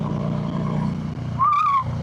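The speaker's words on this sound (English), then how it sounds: "This has the Bassani 2-to-1 exhaust. Sounds great." A motorcycle with a Bassani two-into-one exhaust drones steadily with a deep exhaust rumble, and a brief rising whine cuts through near the end.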